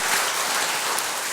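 An audience clapping at a church new-life festival talk, a brief dense burst of applause filling the moment with no speech.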